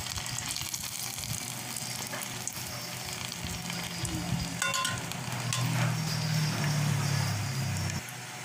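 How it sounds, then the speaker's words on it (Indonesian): Shrimp paste (terasi) frying in a pan for sambal, a continuous close sizzle and crackle with a low bubbling hiss that grows stronger toward the end. "Kalian goreng sampai warna terasi berubah."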